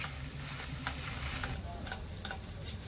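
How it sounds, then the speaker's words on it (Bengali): Spices, water and sugar stirred and sautéed in a pan, giving a steady close sizzle with soft scraping strokes of the spoon, continuous for a few seconds with no talking. "এবার আমি সবকিছু ভালো করে মিশিয়ে একটু কষিয়ে নেব"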